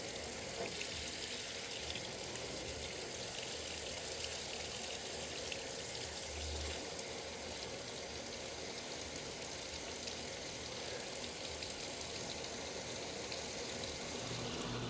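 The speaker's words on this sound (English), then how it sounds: "We should have water coming out of the other tube now." Storm water gushing steadily from a landscape drainage tube fed by gutters, a continuous broadband rush of running water heard alone and fairly close throughout.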